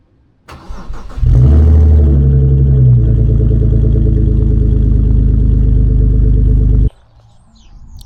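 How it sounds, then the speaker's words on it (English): A BMW E46 engine cold-starts, cranking briefly, catching and bursting into a loud, steady exhaust roar at high idle, then dropping abruptly to a quieter rumble. "We'll put a cold start in now."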